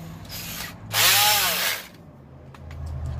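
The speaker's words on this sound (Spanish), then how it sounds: "Voy a utilizar este y voy a utilizar un taladro." A power drill with a 1/8 bit bores holes in an old door panel template: a short whirring burst, then a louder high-pitched spin of under a second that winds down, with a steady low hum throughout.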